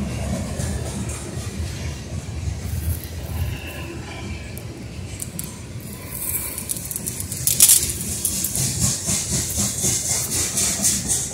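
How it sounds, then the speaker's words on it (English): A passing freight train, steady loud rumble and hissing rush of rail cars rolling by nearby, continuous throughout without a break. "Now we got another train."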